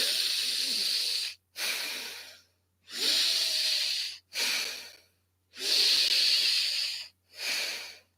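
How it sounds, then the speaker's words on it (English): Breathing in and out through the nose, done deliberately as a stress-release technique: six long, loud, hissing nasal breaths, in and out, close to the mic, with short silent pauses between them and no talking. "I'm going to breathe in and out through my nose to clear everything out 5 times"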